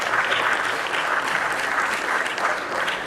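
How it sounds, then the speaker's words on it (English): An audience applauds at a cryptocurrency talk held at the Bombay Stock Exchange, giving steady, dense clapping that stays loud and even for a few seconds with no voices over it. "A round of applause,"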